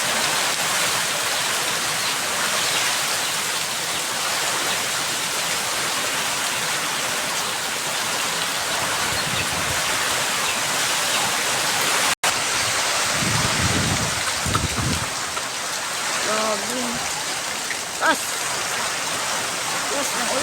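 Heavy typhoon rain and wind roar without a break at San Andres, Quezon, a loud, dense wash of downpour and gusts; a person speaks over the storm partway through.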